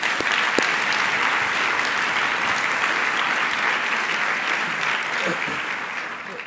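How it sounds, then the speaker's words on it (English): Sustained audience applause at an American Constitution Society national convention, honoring lawyers and students who won awards; dense, steady clapping from a large room that holds evenly for several seconds and begins to thin at the end. "Let's give them another round of applause as well."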